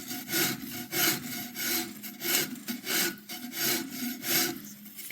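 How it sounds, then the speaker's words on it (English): Hoof file rasping across tamarack wood while shaping a splitting handle, about six rhythmic back-and-forth strokes, each a loud close scraping burst with brief pauses between, no talking. "This here is a hoof file, right?"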